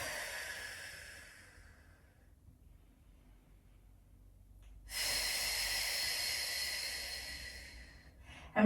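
Slow breathing during a beginner Pilates exercise: a long, audible exhale fades away, a quiet pause follows, then another steady breath. The breathing is close and clear with no talking.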